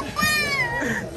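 A cat-meow novelty toy sold at a rural fair market in Guerrero, Mexico lets out a single drawn-out, wavering meow, close and clear over faint market bustle.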